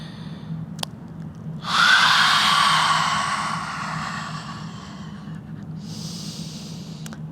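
A forceful yoga exhale pushed out through the mouth with the tongue sticking out, a strong breathy rush lasting about three seconds and then fading. A shorter, softer breath follows near the end, with a low steady hum underneath throughout.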